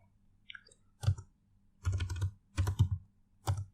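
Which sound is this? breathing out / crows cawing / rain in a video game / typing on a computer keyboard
typing on a computer keyboard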